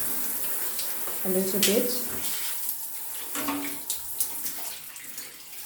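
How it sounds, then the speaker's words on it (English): Shower water runs steadily against glass to rinse off limescale remover, a continuous hiss and spatter with a person briefly speaking over it. "after 15 minutes, I will just run the water"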